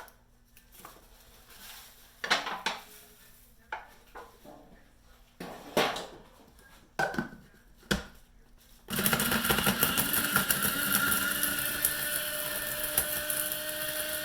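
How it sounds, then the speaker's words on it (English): A food dehydrator runs steadily as seasoning dries inside, a continuous whirring hum that switches on partway through after scattered quiet handling clatters and stays loud to the end. "put it back in the dehydrator for about 20 minutes or so, and it's going to dry it up"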